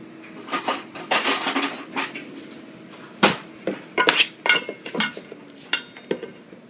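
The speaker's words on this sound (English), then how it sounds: "Let me just grab a spoon." Spoon and cutlery clink against dishes in a home kitchen while pesto is added to a vegetable lasagna, giving a string of sharp, close metallic taps and chinks at an irregular pace.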